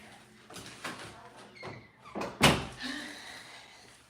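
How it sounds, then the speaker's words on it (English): A door is pushed shut indoors, its close landing as one sharp, fairly loud thunk after a few softer knocks and shuffles, with a faint hum lingering afterward. "let me close the door out of the way"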